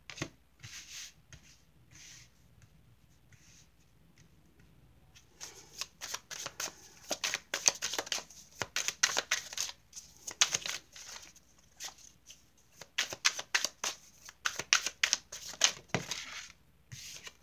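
Tarot cards are shuffled by hand, starting with a few soft riffles and then becoming dense bursts of papery flicking and slapping, close and fairly quiet, with no talk.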